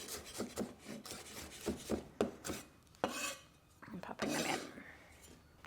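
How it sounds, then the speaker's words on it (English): A knife chops shallots rapidly on a board in quick, irregular strokes, close up, followed by some scraping and rubbing. "roughly chopping up the shallots"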